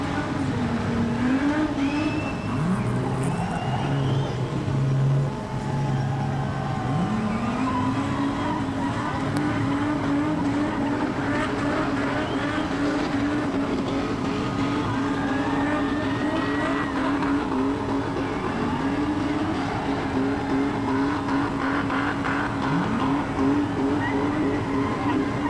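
Street stock race cars spin donuts on a dirt track at Redline Raceway after a national title A-main, engines revving and wailing in rising and falling sweeps with tire noise, loud and continuous, with crowd or commentary faintly underneath.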